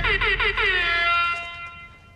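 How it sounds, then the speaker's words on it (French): An air horn gives a few quick pulsed blasts, then one long blaring tone that fades out, loud and close with no talking. "Qui a donné ce klaxon à Jerry"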